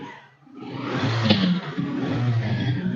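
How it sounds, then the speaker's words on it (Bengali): A used 2021 motorcycle at a second-hand bike showroom near Kolkata revs up loudly after a brief lull. The engine roars close by and stays high and gritty to the end. "ইঞ্জিনের সাউন্ড শুনিয়ে দাও"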